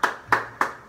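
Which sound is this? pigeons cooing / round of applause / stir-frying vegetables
round of applause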